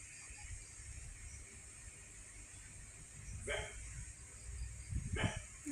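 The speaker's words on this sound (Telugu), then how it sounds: "అందుకే కుక్కల శబ్దం అయితే వినిపిస్తుంది" A couple of dogs bark in the distance at night, two short bursts a few seconds apart over a steady background hum.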